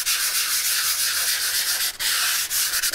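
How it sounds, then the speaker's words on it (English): Light hand sanding of a stone countertop with 180 grit sandpaper, a continuous close hiss of abrasive rubbing with a few brief pauses between strokes and no talking. "All we're going to do here is we're going to give this countertop a light sand."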